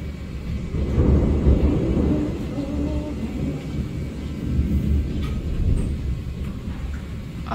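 Low rolling thunder during a thunderstorm with strong wind, a continuous deep rumble swelling and easing over several seconds, with steady background noise.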